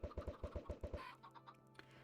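Chickens clucking in a video game, a quick run of evenly spaced clucks that gives way to softer, scattered squawks, fairly quiet and with no voices over them.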